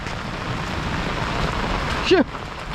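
Rain pours steadily in a rural outdoor setting during a hailstorm, a dense close hiss throughout, as a voice speaks over it and a brief sharp cry rises near the end.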